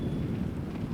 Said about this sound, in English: That wind's crazy.